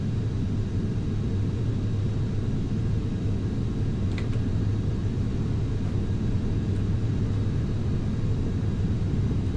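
Steady low roar of a Southwest airliner accelerating down the runway on its takeoff roll in the FSX flight simulator, a constant rumbling engine drone with a brief faint click partway through.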